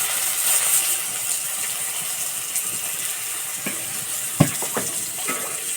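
Eggplant frying in oil with whole garlic cloves, a steady bright sizzling hiss throughout, with a few faint pops and clicks near the end.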